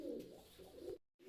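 A racing or fancy pigeon coos in low, throaty pulses close to the microphone, with a brief gap of silence near the end before the cooing resumes.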